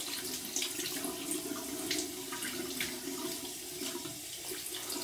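Water runs steadily from a tap, a continuous close splashing rush with no pauses.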